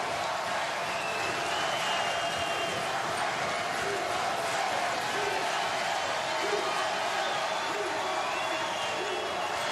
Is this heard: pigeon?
no